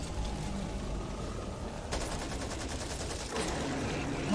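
Rapid gunfire from the game Back 4 Blood, steady fast shots rattling close for most of the stretch, picking up in density toward the end.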